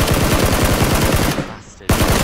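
Rapid automatic gunfire in the video game PUBG, a loud close burst of evenly spaced shots that breaks off for a moment and then resumes.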